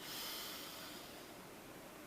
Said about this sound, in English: Breathe in for 5, out for 3.